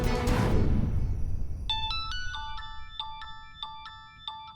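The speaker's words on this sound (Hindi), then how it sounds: "देख किसका फोन है।" A phone ringtone plays a repeating electronic melody of bright chiming notes, following a brief burst of noise at the start.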